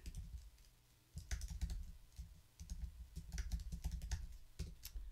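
Fingers type on a computer keyboard in quick irregular bursts of soft clicks, close and clear, with a short pause before a steady run of keystrokes and no talk.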